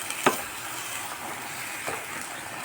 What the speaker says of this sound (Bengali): এখন আমি নেড়ে চেড়ে ভেজে দিব